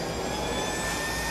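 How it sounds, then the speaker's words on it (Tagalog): A JetJoe 1400 small turbine engine starting on jet fuel gives a loud, steady rushing roar with a high whine running through it, continuous and close throughout. "fuel is used for the start gas. Yan, which will directly start the turbine engine."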